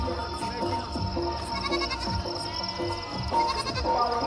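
Many large goats tethered outside a farmyard shed bleat repeatedly and overlap one another, some near and some farther off, in a dense continuous chorus with some sheep mixed in.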